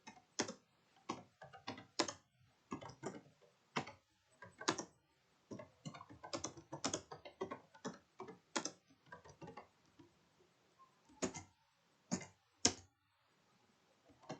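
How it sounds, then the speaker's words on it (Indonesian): Computer keyboard typing of code during a programming lab, quick irregular bursts of clicking keystrokes with short pauses, fairly close and quiet, no talking. "Kemudian kita ketikkan cout."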